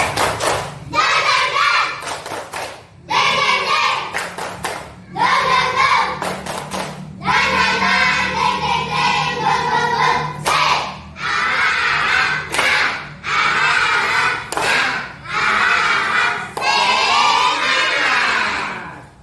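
In a classroom, a group of children performs a rhythmic spirit clap, with loud bursts of clapping and shouted chanting repeating in short, regular phrases separated by brief pauses.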